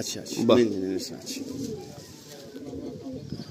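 A tournament-bred Madrasi pigeon coos in a short, near, low-pitched burst, then fades under steady background chatter and soft ambient noise, with people talking nearby.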